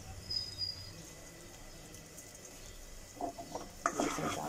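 Mustard seeds and ajwain roast quietly in a pan, a faint soft sizzle that turns into a short burst of spoon scraping and clinking against the metal near the end.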